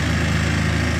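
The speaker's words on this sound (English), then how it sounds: "Do you guys hear the jackhammer?" A jackhammer hammers steadily nearby, a dense continuous mechanical rattle with a low pulsing drone, loud and unbroken, with no voices over it.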